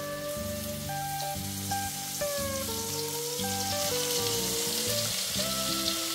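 Spices hit hot oil for chicken malai curry, producing a continuous, close crackling sizzle that runs steadily under a melodic music bed, with no one speaking.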